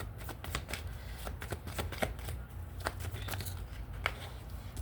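Tarot cards being shuffled and drawn during a reading, a run of quick crisp riffles and snaps in an uneven rhythm, close and fairly quiet with no speech.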